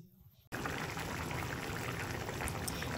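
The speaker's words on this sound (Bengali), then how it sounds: "এবার দিয়ে দিলাম পরিমাণ মতো পানি" Water is poured into a pan of egg curry with potatoes and pointed gourd, starting suddenly after a quiet moment and continuing as a loud, steady, close splashing pour.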